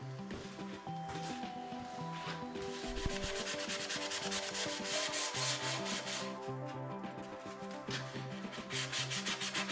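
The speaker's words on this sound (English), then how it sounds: "let's give it a little bit of a sanding" A wooden blanket ladder gets sanded by hand with a sanding block, giving continuous, close, raspy rubbing strokes in a steady back-and-forth rhythm with no pauses.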